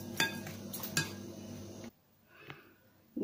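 Chopped kachumber salad vegetables get tossed in a bowl with a spoon, giving soft clinks and scrapes and a couple of sharper knocks, then near quiet broken by a faint tap.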